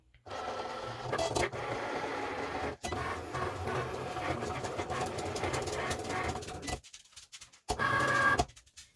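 Cricut cutting machine slicing a black bat layer, a continuous motorized whir and clatter of the carriage moving back and forth, breaking off briefly near the end before a short final burst, close and with no talk.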